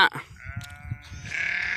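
A young lamb bleats near the microphone in a field of groundnut husk, its wavering cry rising and holding toward the end over low background rustle.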